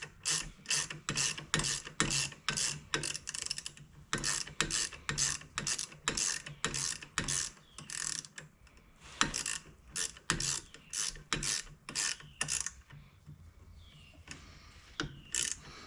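A hand ratchet tightens smallish bolts on a hydraulic lift during axle and brake work, giving steady bursts of close, sharp clicking pawl strokes in a repeated rhythm, with a few short pauses between runs.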